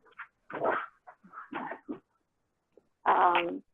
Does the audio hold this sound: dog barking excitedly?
yes